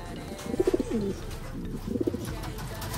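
Racing pigeons coo inside a loft, two close, throaty, rolling bursts of cooing about a second and a half apart over a low background hum.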